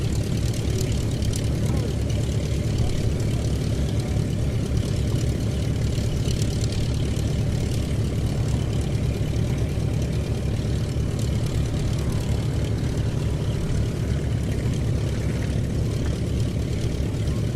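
A propeller aircraft approaching to land at Duxford airfield drones steadily and loudly throughout, its engine note constant and close with no break.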